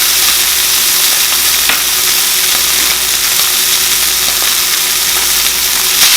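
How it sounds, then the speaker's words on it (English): A venison steak hisses and crackles loudly in a smoking-hot pan, a constant close-up sizzle that stays strong and unbroken throughout, with no talking. "we got it smoking hot. So put this one on. Sizzle."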